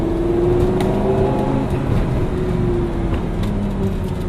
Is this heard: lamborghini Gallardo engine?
yes